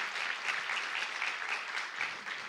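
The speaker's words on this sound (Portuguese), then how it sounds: "Quem pode dar uma salva de palmas para a palavra do Senhor?" A church congregation claps in sustained, steady applause, a dense even patter of many hands that holds at moderate level without pause.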